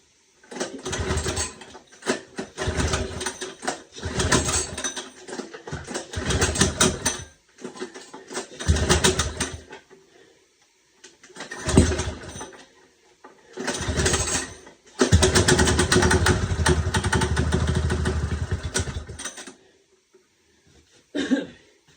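A small engine with a freshly rebuilt carburetor sputters through several short bursts of cranking and firing, then catches and runs steadily near the listener before cutting off.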